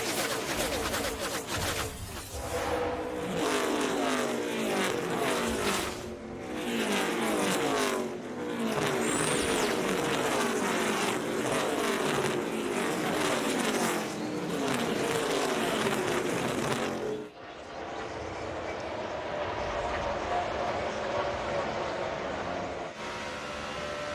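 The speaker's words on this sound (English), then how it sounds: "Riding with Jeff Burton here in the 31 car" NASCAR stock cars roar around Pocono in the 2006 Pocono 500, loud continuous engine noise with cars sweeping past in waves, shifting near the end to a steadier in-car engine drone.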